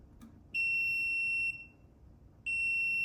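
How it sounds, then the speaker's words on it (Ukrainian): A Laser Deton initiation board for a kamikaze drone gives two loud, sustained electronic beeps, each lasting about a second, separated by a pause, with faint background hiss between them. "Пристрій почав моргати синім світодіодом осьочкою і е, пищати з затримкою."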